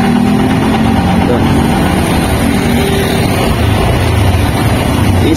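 A Honda car engine restarts after an idling-stop shutoff and settles into a steady, loud, close idle with a continuous rumbling hum.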